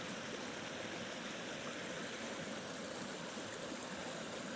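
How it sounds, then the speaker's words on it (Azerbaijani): River water rushing over stones, a steady, dense, unbroken wash of flowing water heard up close, with no voices. "Su da burada rahat çayla öz yoluna davam edir. Daşlardan istifadə edərək."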